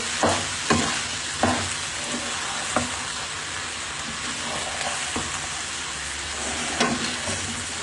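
Half-boiled rice being mixed for chicken fried rice in a hot pan, a continuous sizzle broken by repeated clacking spatula strokes at an uneven pace, close and alone.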